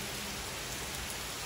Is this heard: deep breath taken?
no